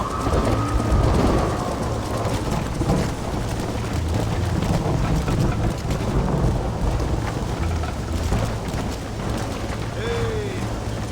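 Storm wind roars and rain hisses continuously in the Red Dead Redemption video game, a dense, loud wash of weather noise with a few faint game sound effects and no clear talk.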